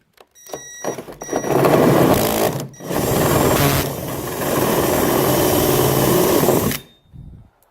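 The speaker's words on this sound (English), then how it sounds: "I'm going to hold the drill bit now at an angle" A power drill whirs loudly and close by in long steady bursts, boring a hole at a slight angle for a flush mount rod holder, briefly stopping near the middle before running on, then cutting off.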